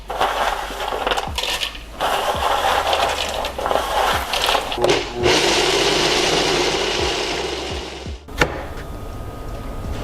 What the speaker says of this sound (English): I'm just going to now blend them in my blender